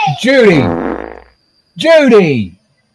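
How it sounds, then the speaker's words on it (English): Two loud, wet, squelchy farts with a falling, rubbery buzz, one long and one shorter after a brief pause, heard close and alone. "Why is she over there farting?"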